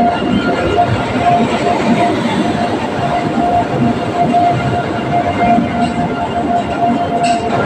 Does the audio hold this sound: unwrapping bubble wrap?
no